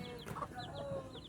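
Chicks, offspring of a Boston Gray hen, peep in repeated short chirps over a low farmyard murmur, with nearby fowl clucking softly underneath.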